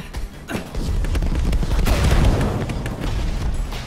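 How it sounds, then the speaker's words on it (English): Fireworks bursting in the Minecraft Story Mode video game, a dense run of booming, crackling blasts that build into a sustained rumbling barrage across the whole stretch, loud and close with no talking. "Fireworks!"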